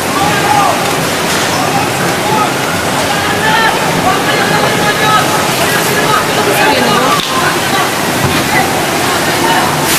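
Floodwater from the 2004 tsunami surges into a hotel in Sri Lanka, a loud, continuous rushing roar of churning water filling the whole span, with voices talking over it.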